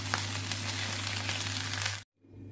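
Fried rice with chicken and pickled mustard greens sizzles and crackles steadily in a hot pan over a low hum, then cuts off abruptly near the end.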